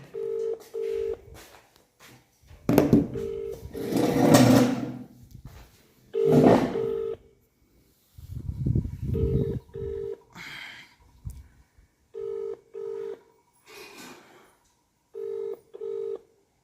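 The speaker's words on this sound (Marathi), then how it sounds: "फोन तर लागला आहे त्यांना" Repeated paired ringback tones sound at even intervals, with stretches of voices talking in between the rings.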